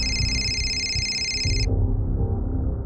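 An electronic telephone ringtone warbles steadily for over a second and a half, then stops, under a low rumbling background, with no speech.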